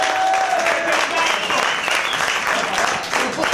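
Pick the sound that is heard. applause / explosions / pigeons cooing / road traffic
applause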